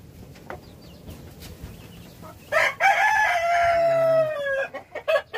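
A Rhode Island Red rooster crows loudly and close by in one long drawn-out call, with scattered hen clucks and quieter bird sounds before and after.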